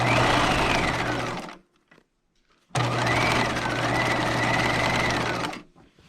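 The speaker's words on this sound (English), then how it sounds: "I'm going to back stitch and then continue stitching." A sewing machine stitching a dress seam at a 5/8 inch allowance runs in two steady, loud, close bursts, with a brief quiet pause between them while the stitching direction changes for a backstitch.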